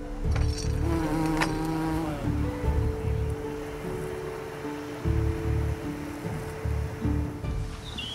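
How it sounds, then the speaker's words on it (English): A low droning buzz of bees hums close by, swelling and fading in pulses, with wind or surf rushing faintly behind. "everywhere was alive with bees"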